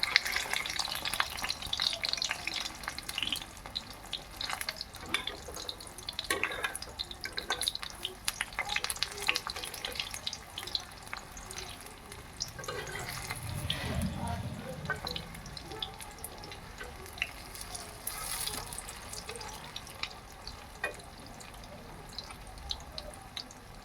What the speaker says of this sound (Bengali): এভাবে নেড়ে চেড়ে লাল লাল করে ভেজে নেব।